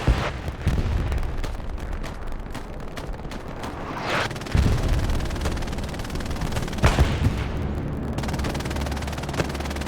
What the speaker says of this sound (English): King Iroh shooting shots.